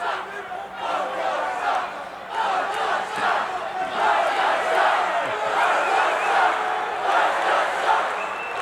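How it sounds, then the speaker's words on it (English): Partisan crowd in a WWE wrestling arena during an Andre the Giant match, a continuous loud roar of shouting and cheering voices that swells and holds steady throughout. "it appears that there's a partisan crowd here"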